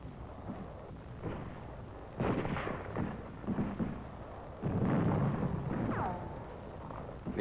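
Self-propelled 105 mm howitzers fire during a 1944 attack near a wrecked French town, sounding as two or three heavy, rumbling booms over a constant muffled din on a worn wartime newsreel soundtrack.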